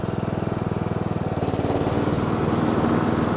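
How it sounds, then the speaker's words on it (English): Cub Cadet XT1 LT42B riding lawn mower running with its mower deck engaged, a steady close engine drone with a rapid pulsing beat that thickens and grows a little louder partway through, no talking. "So we're gonna go ahead and engage the mower deck."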